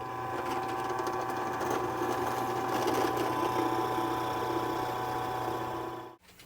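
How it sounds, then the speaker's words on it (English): A step drill bit bores the back of the tuner holes in a custom guitar headstock out to 10 millimetres, giving a steady, loud, close whine that holds for about six seconds and then cuts off abruptly. "I'm going to take this step drill bit now, run it down in here, and we'll take the back of our headstock tuner holes up to 10 millimeters"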